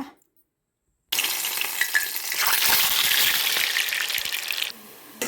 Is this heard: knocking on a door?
no